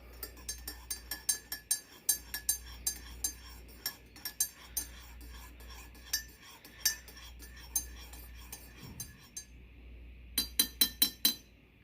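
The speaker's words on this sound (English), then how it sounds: "So we're going to give it a stir." Spoon stirring chocolate milk into tea in a cup, with repeated bright clinks against the sides in a quick rhythm of bursts, a brief pause, then a final flurry of taps, close and quiet.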